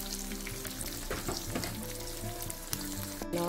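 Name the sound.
frying red onion on high heat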